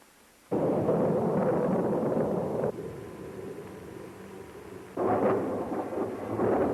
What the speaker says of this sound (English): Thunder like heavy artillery.